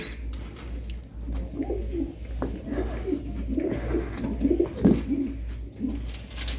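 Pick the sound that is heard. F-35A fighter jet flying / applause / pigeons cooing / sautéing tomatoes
pigeons cooing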